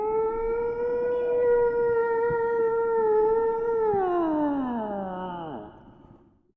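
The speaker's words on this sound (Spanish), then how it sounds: "Ballena." A whale call: one long, tonal, moaning note that holds steady and then bends downward and fades, clear and alone.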